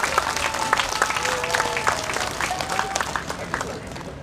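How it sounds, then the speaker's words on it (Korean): An indoor lecture audience applauds continuously, many hands clapping in a dense, steady wash with a few louder claps standing out. A voice carries over the clapping. "박수 부탁드립니다."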